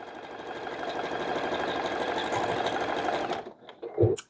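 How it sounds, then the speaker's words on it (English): A sewing machine runs at a fast, steady whirring clatter, stitching along bias tape, then slows and stops with a couple of short mechanical clunks at the end. "just start stitching along on both sides of the bias tape"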